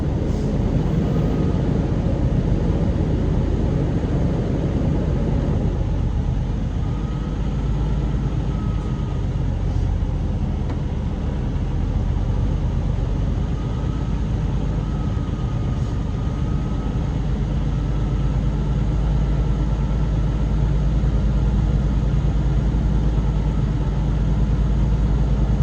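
A semi truck diesel engine is held at a steady elevated idle around 1100 RPM during a Class A CDL pre-trip inspection, a continuous loud low rumble with a faint whining tone over it and no pauses.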